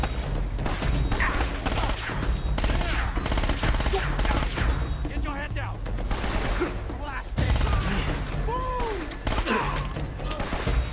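A suppression weapon hammers out rapid automatic bursts in Uncharted: Drake's Fortune Remastered, loud close shots layered with echoing impacts, ricochets and shouting over about eleven seconds of intense firefight.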